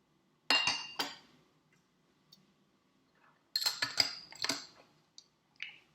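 A Martinez cocktail strained into a martini glass gives bright clinks and the rattle of ice against a strainer in two short bursts, near and clear, without talk.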